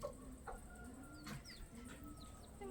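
Hens and young chicks squabble in a coop, giving faint scattered chirps and short clucks over a steady low background hiss.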